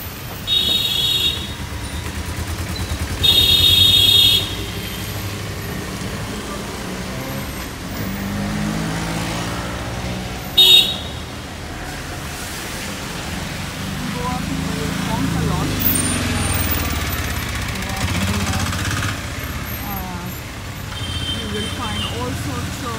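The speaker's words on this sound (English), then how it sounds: "Traffic on the road, lots of honking, very busy roads." Busy street traffic in Panaji, Goa, a continuous close rumble of cars, trucks and buses passing, broken by a few sharp horn blasts, with a voice talking over the noise.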